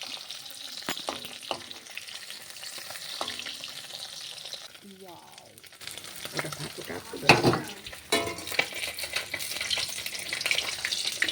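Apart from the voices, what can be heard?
fish (bata) frying in oil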